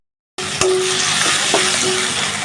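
Dried kachki fish frying in a pan, a steady close sizzle that starts abruptly and holds evenly throughout, with a couple of faint utensil touches.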